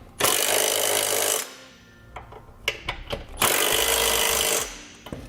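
Trailer hitch bolts on a 2017 Ford Explorer are run in with a 19mm socket on a power tool, producing two loud whirring bursts separated by clicks and metallic clanks, close by and without talk.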